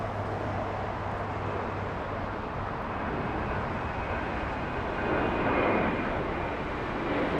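A United Airlines Boeing 737 arriving at LAX from San Jose, Costa Rica produces a steady, moderately loud engine rumble that swells near the end, with no voices.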